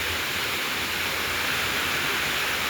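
A frightening, fast-flowing river rushes steadily and loudly close by, a dense continuous roar of water with no voices over it.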